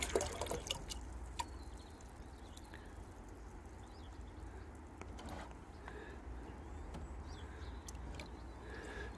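Liquid nettle feed is poured into a watering can at an allotment, faint trickling and dripping against quiet outdoor background.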